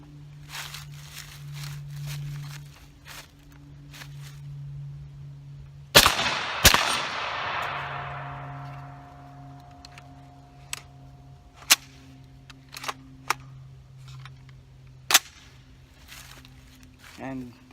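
Suppressed rifle firing its last rounds with a gas block still needing tuning: two sharp, loud reports close together, then several fainter, scattered cracks over a steady low hum.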